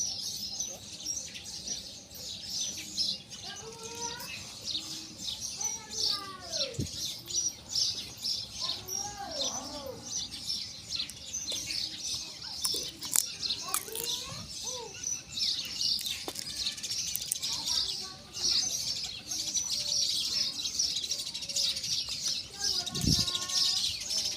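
Pigeons feeding on scattered peanuts outdoors, with several short chirps and calls from birds scattered through a steady hiss of ambient noise, voices talking at times.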